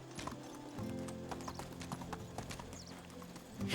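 A ridden horse in the medieval life-sim Medieval Dynasty gallops with steady, rhythmic hoof clops, fairly close and clear, with a snort or whinny near the end.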